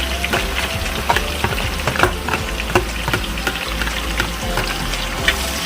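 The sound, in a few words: sautéing chopped vegetables in oil for fish molee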